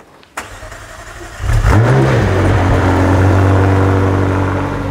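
A McLaren Senna's engine cranks and fires, catching with a sharp bark before settling into a loud, steady idle with a deep rumble, close by and with no talking.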